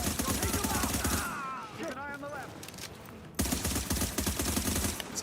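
Rapid bursts of tapped gunfire from a weapon in The Division ring out loud and close, breaking off briefly around a game voice before resuming densely.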